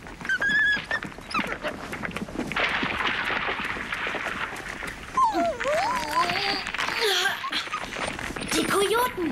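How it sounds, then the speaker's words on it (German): Cartoon coyotes growl and whimper inside a collapsing underground burrow, rough snarls and whiny yelps mixed with other voices throughout. "Die Kojoten!"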